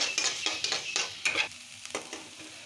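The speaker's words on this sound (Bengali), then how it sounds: "এটা একটু ভেজে নেব, গন্ধটা কাটিয়ে নেব ভেজে" Ginger garlic paste frying in a pan, with a steady soft sizzle and repeated scraping stir strokes of a spoon against the pan, close and fairly quiet, no talk.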